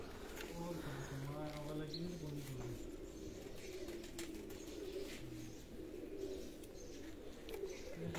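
Pigeons cooing in a loft, low rolling coos at moderate level running through much of the stretch while someone talks over them.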